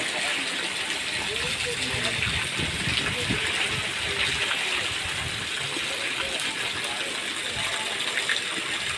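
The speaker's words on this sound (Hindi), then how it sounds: "रास्ते दे विच फिर दोबारा बारिश शुरू हो गई" Heavy monsoon rain pours down in a Punjab village during the Sawan-Bhadon season, a dense, steady roar of water that holds at an even loudness throughout without a break.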